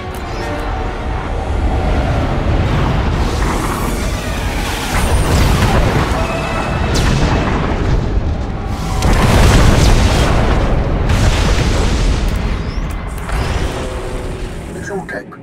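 Bombardment explosions in the video game Star Wars: The Old Republic, a loud continuous barrage of deep booms and crackling bursts that swells repeatedly, with speech-like voices mixed in.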